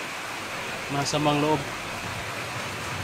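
Heavy rain pours in a constant broadband hiss throughout, while a person briefly speaks over it partway through.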